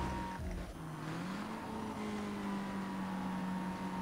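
A steady car engine drone from the Need for Speed video game, with a gradually rising pitch, continuous and smooth, synthetic-sounding, no voices.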